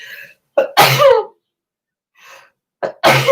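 A single sharp sneeze bursts out near the mic, with a quick intake of breath before it and a second breathy burst after a pause.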